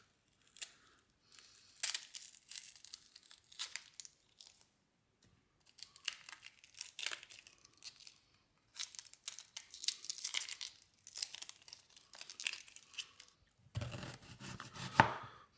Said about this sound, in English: now I'm going to slice up a sweet onion